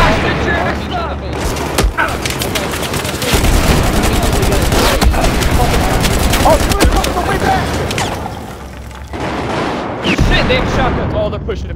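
Dense gunfire and heavy explosions from shotguns and RPGs in a chaotic Battlefield 4 firefight, with continuous loud shots and booms layered throughout while people talk over the battle.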